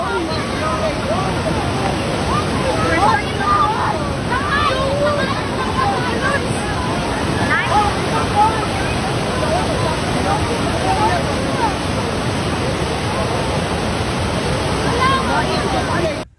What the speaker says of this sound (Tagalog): biglang rumaragasa ang tubig sa ilog